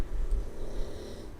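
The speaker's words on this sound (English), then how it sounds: "That's my dog snoring." A dog snoring nearby, a steady rough breathy rumble throughout.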